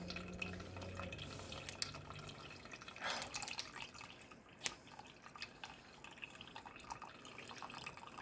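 Water trickling quickly through a GSI Coffee Rocket coffee filter, a faint, steady close trickle with a few soft drips and splashes, no talk.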